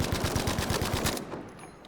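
A rapid automatic burst from a gun in Battlefield V, about ten evenly spaced close, punchy shots in quick rhythm, then a short ringing fade into quiet.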